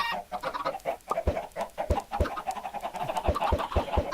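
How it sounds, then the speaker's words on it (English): Chickens in the Minecraft video game cluck repeatedly in short, uneven bursts, with a steady run of clucks and a few sharper thumps, no talk over them. "I'm just trying to produce some more chickens."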